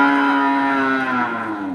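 Cattle in a livestock farmers' group pen in Wanasaba village give a single long, loud, close moo with a steady tone that slowly fades, with no talk over it.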